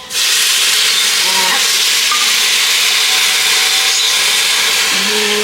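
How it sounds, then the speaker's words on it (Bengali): Water pours from a bowl into rice with raisins in a NutriPot pressure cooker for pea and paneer pulao, a steady close rushing hiss lasting throughout with faint kitchen clinks. "এই যে জলটা দিয়ে দেওয়া হলো।"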